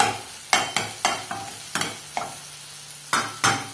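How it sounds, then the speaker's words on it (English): Scrambled eggs being stirred in a frying pan, a run of soft scraping strokes in an uneven rhythm over a faint, steady sizzle, close and alone with no talk. "you want to just keep on stirring. And your scrambled eggs are about 10 seconds actually away from being done."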